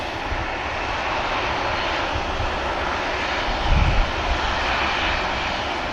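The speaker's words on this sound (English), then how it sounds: "There goes the Ryanair." A Ryanair airliner takes off at Manchester Airport, its engines a broad continuous roar at moderate distance, steady and loud with a brief swell near the middle.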